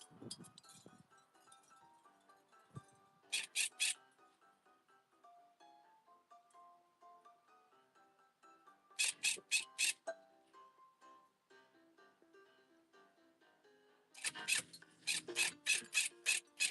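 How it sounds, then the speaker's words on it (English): Stiff brush scrubbing the scaly back of a captive alligator, rasping in quick bursts of four or five strokes separated by quieter stretches with a soft background melody. "This back scrubbing session takes him to crocodilian ecstasy"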